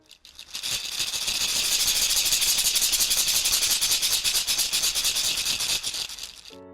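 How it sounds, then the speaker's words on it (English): An African shekere, a gourd rattle, is shaken in a steady rhythmic pulse, giving a bright beaded swish that swells in, holds loud and close, then stops, with no talking. "a beautiful instrument from Africa that makes a sound like this"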